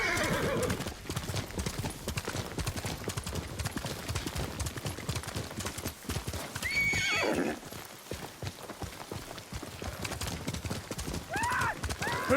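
Several horses gallop in Ghost of Tsushima, their hooves drumming in a fast, continuous rhythm, with loud whinnies breaking through at intervals and little talk over the pounding.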